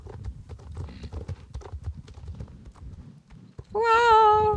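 Horse hooves in the Star Stable Online video game, a quick rhythmic clip-clop of a trotting horse that runs for several seconds and ends in a loud, clear neigh.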